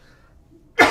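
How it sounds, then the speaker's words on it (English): A single short, sharp cough bursts out near the end after near silence. "Excuse me, I got to cough really quick."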